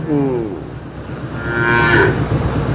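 A cow moos twice, a short low call followed by a longer, louder drawn-out moo, close by with no talking.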